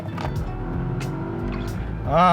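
Volvo XC90 Recharge T8 hybrid SUV rated at 462 horsepower pulls hard from inside the cabin, a low steady drone of engine and road noise that swells near the end, with voices talking over it.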